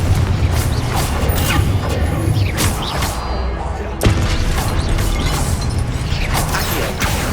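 Spell-casting combat in Hogwarts Legacy with a Confringo blast, bursts of crashing, whooshing magical impacts and mechanical clatter layered over continuous game background sound, fairly loud and busy.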